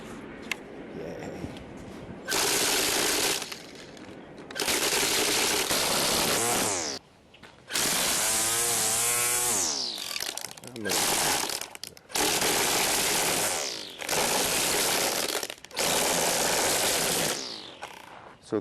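A Ryobi 13-inch string trimmer cutting grass whines loudly in repeated bursts of a few seconds each, revving up and dropping off between passes, with short quieter gaps.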